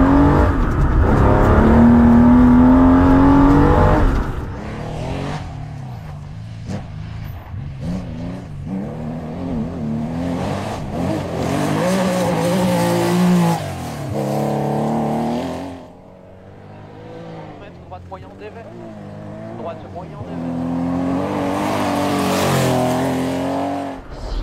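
Historic rally car on a shakedown stage in Morocco, loud close engine revving and pulling through the gears with rising and falling pitch, dropping off briefly and then accelerating hard again.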